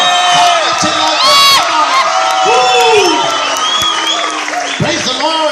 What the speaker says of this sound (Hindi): जोर से ताली बजाओ, जोर से चिल्लाकर